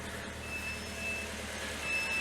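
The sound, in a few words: jump starter warning beeping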